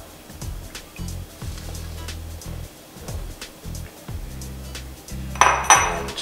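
Flour being mixed into pancake batter in a bowl: a steady run of repeated scraping and clinking strokes of a utensil against the bowl, close up, with a brighter metallic clink near the end.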